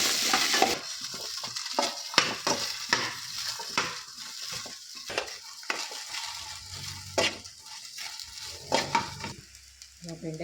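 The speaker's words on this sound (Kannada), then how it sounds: "ಸ್ವಲ್ಪ ಆಯಿಲ್ ಹಾಕ್ಕೊಳ್ಳಿ, ಫ್ರೈ ಆಗುತ್ತೆ" Okra frying in oil in a pan, a soft continuous sizzle broken by repeated scraping and tapping strokes as the pieces are stirred, close and fairly quiet.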